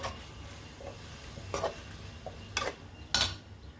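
Bhindi chicken is stir-fried in a pan over a soft sizzle, with a few sharp scrapes and clinks of a spoon against the pan spaced a second or so apart.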